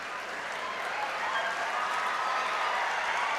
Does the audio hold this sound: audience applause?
yes